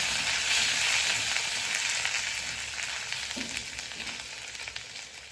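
Ginger and garlic fry in hot oil in a pan for a Kottayam-style fish curry, giving a steady, close, bright sizzle that fades slightly toward the end, with no talking.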